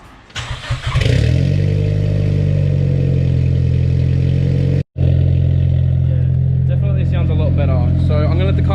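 A Nissan S15 cranks and fires up after a short starter whir, then settles into a loud, steady rumbling idle with a brief cut-out, as voices murmur over the engine near the end.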